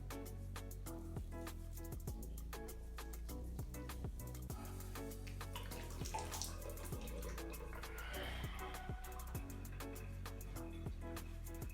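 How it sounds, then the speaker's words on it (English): Running tap water splashing steadily for several seconds as papaya exfoliating face wash is rinsed off at a sink, with scattered drips and splashes from hands over the continuous flow, fairly faint and close. "I've just rinsed off the exfoliating face wash off my face"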